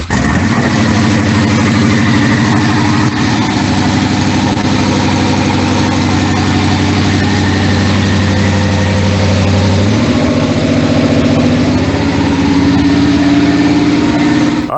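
A cammed Corvette C5 V8 idling loudly and steadily, its choppy lope running throughout, with a slight rise in pitch partway through as the revs shift.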